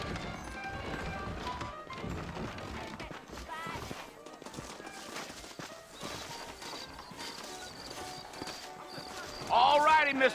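Horses' hooves clip-clop in the Red Dead Redemption video game, a steady moderate rhythm running under music, with voices speaking throughout and a brief whinny near the end.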